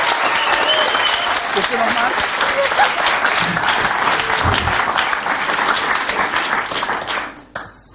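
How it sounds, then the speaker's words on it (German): An audience claps in a thick, continuous burst that lasts several seconds and then cuts off abruptly, with a voice speaking briefly over the applause. "jetzt einfach mal klatschen"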